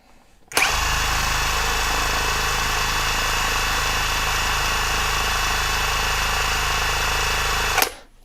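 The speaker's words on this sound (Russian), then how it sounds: "Давайте измерим обороты на первой скорости" ALLSOME 400 Nm cordless impact wrench spinning freely at first speed, a steady loud motor whine that starts abruptly, holds constant for about seven seconds, then cuts off, with no talking.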